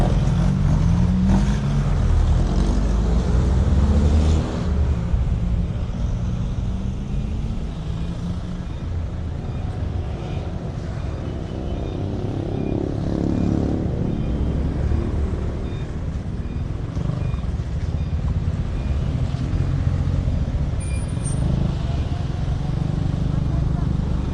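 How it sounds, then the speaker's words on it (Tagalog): Road traffic and engine noise heard from a moving motorcycle in Gen. Trias, continuous and loud throughout, with someone talking over it. "Dito traffic na naman."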